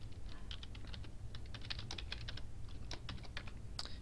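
Someone types form details on a computer keyboard, quick uneven bursts of soft key clicks with brief pauses between, close but quiet over a low background hum, no talking.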